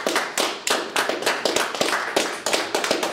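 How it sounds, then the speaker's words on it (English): Audience applause for a Nevada Supreme Court Seat C candidate interview, a small group clapping in sharp, irregular bursts of close, distinct hand slaps throughout, with no talking. "Go ahead, give me a round of applause."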